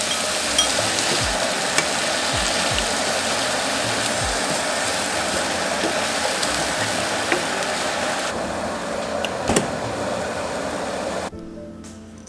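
Onions and tomato sizzle steadily in a hot pan with a broad, close frying hiss, punctuated by a few soft stirring knocks, fading to near silence at the very end.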